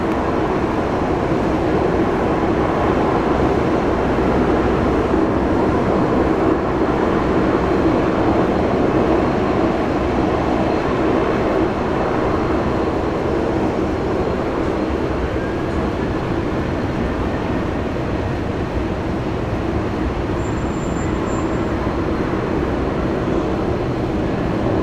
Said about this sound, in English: Velocity 924, runway 19 left, cleared for takeoff.